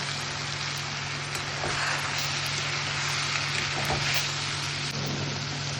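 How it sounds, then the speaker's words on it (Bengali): Eggs sizzle and spit in a hot pan, a steady dense crackle that holds at an even level throughout, close and alone with no talk, plus a faint low electrical hum beneath. "ডিম ভাজছি।"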